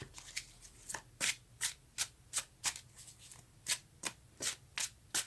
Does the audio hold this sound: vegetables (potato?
no